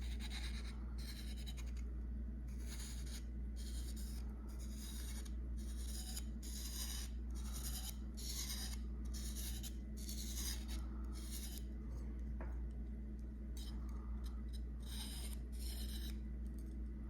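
A dental scaler being sharpened, drawn in repeated rasping strokes against a sharpening surface: a steady rhythmic scrape every second or so for the whole stretch, close and fairly quiet, with no talking.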